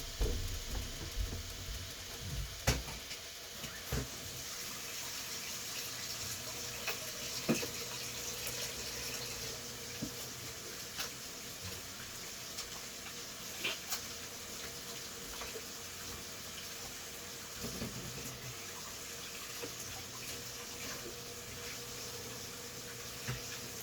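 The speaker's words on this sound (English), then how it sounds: "Put this in the sink and wash my hands." A sink tap runs steadily while someone washes their hands beneath it. The water makes a soft, continuous splashing that is faint but close, broken by a few light knocks and clatters, with no one speaking.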